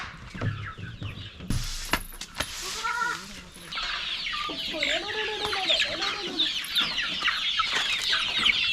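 Chickens cluck and call on a farm with around two hundred birds, a mix of near clucks and chatter over a steady busy background, with a few sharp knocks early on.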